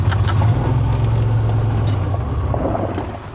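An old mobility scooter driven outdoors on a farm gives a steady low motor drone with rough wind and rumble, holding fairly loud throughout before easing slightly at the end.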